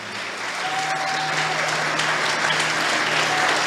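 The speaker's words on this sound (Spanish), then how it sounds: "Dele fuerte esas palmas al Señor" Steady, loud clapping from a church congregation during worship, dense and continuous throughout with a faint sustained tone underneath.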